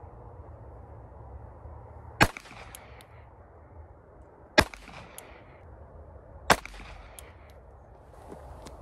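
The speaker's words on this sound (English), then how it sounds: "we're gonna take 3 more shots with the Beretta" A Beretta pistol in .32 ACP fires three single shots at even intervals of roughly two seconds, each a sharp crack that decays quickly over a low outdoor background hum.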